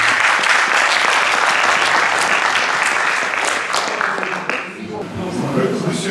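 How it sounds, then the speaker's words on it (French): Sustained audience applause at a local conference in France: dense clapping from a room full of people, loud at first and thinning slightly toward the end. "On peut l'applaudir,"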